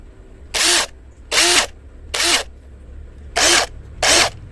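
A cheap, high-torque cordless impact driver runs at high speed in five short, loud bursts of whirring, evenly spaced with quiet gaps between them, close to the listener.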